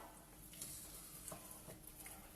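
Homemade apple cinnamon compote being stirred in a pot, soft faint scraping strokes with a few brief clinks of the utensil against the pan over a low background hiss, no talk.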